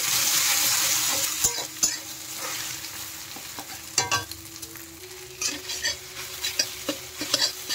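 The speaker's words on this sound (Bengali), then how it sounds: "দিয়ে ডিমগুলো ভালো করে ভেজে নিতে হবে" Eggs sizzle and crackle in hot oil, with scattered scraping clicks of a spatula stirring in the pan.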